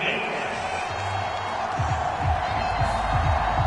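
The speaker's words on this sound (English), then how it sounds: "Some boos coming down right now from this home crowd after that call." The home crowd at a Steelers at Giants game in Madden 25 booing as a sustained, roaring crowd noise, with low drawn-out vocal swells rising toward the end.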